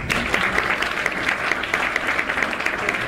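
Audience applause at the Miss Maui pageant, a dense, steady wash of many hands clapping that holds for about three seconds without talk.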